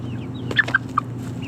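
Chickens inside a backyard coop give a few short clucks in quick succession over a low background hum. They sound close and moderately loud.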